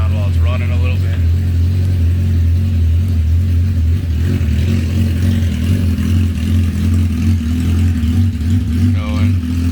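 A trike's engine runs steadily with a deep, loud idle and occasional revs, the sound shifting as the listener walks around the machine; a voice speaks briefly over it.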